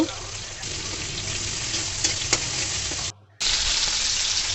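Salt, turmeric and chilli powder sizzle as they are sautéed in a pan for a hilsa and taro dish. A dense, steady frying hiss holds close and loud, then cuts out briefly before resuming.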